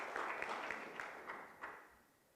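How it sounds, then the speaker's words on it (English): Faint, scattered applause from an audience, a handful of claps rising and trailing off over a couple of seconds. "Let's clap for that."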